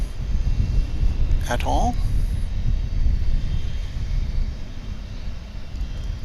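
Steady broad roar of an American Airlines jet at DFW International Airport, a flight bound for Tulsa, Oklahoma, heard continuously with someone talking briefly over it.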